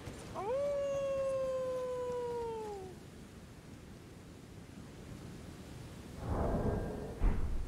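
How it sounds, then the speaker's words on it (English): A large creature in Elden Ring lets out one long, tonal howl under the moon that rises and then holds steady for a couple of seconds, followed by low ambient noise and a brief rumbling burst near the end. "Is he howling at the moon?"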